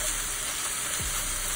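Beef seasoned with garlic, onion, Cajun spice, salt and pepper cooks in a pan with a loud, continuous close sizzle and hiss across the short stretch, no voices.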